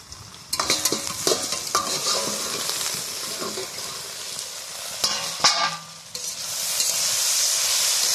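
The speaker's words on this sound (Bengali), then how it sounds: "একটু ঢাকনা তুলে নাড়াচাড়া করে নিলাম" Taro cooking with turmeric in a covered pot over a wood-fired stove, the lid lifted and the pieces stirred with a few sharp scraping knocks over a soft sizzle, then a steady hiss.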